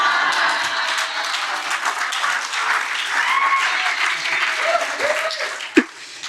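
An audience claps steadily at a talk with Olympic speed skater Apolo Ohno, loud dense applause that continues throughout, with a short thump near the end.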